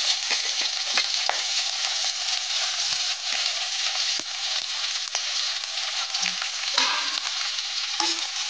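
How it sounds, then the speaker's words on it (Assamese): Chopped onions sizzle in hot oil with cardamom, cloves and cinnamon, a constant close frying hiss broken by occasional stirring clicks and scrapes, with no voices. "পিঁয়াজখিনি অকণ ভালকৈ ভাজি ল'ম, ৰঙচুৱা হোৱাকৈ।"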